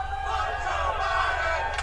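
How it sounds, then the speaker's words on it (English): A large crowd chants in a steady rhythmic roar at a NASCAR race, the massed voices blending into a dense, continuous wall of sound. "as you can hear the chants from the crowd"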